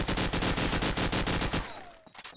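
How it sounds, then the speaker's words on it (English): Rapid bursts of gunfire punching through walls during a Counter-Strike match between Croatia and Slovenia, a loud sustained fusillade of rhythmic shots lasting over a second before cutting off into scattered fainter pops and faint game effects. "Wall bangs going up by Darix."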